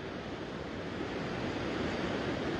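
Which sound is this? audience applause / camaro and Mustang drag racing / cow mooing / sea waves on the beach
sea waves on the beach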